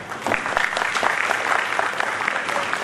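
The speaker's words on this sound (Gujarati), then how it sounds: "આપણે એને તાળીઓથી વધાવીએ" An audience at a Giants International Federation 3A convention in Khambhat applauds, a sustained burst of many hands clapping together at close range for about three seconds, with no speech.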